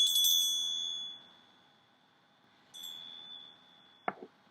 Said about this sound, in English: we have this beautiful little bell here